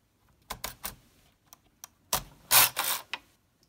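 A vintage Unique knitting machine carriage is pushed across a row, making a series of clicking, clacking mechanical bursts with short pauses, then a louder rattling run near the end, close and otherwise quiet.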